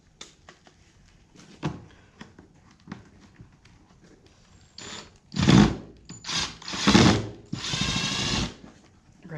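A power drill backs out a screw under the heater box gasket of a 1981–93 Dodge Ramcharger truck, with faint clicks first and then several loud, close whirring bursts of a few seconds each.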